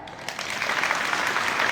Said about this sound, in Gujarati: તમારા માટે તાળી